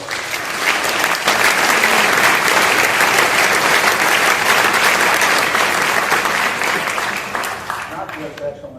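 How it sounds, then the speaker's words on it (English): Loud applause from the audience at a mayoral forum in Pasadena, Texas, a dense burst of clapping with some crowd noise that lasts about eight seconds before it tapers off. "Let's give them a round of applause."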